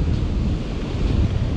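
Big ocean waves roll onto a surf-fishing beach, heard as a heavy, continuous low rumble and roar with strong wind buffeting the microphone and no talking.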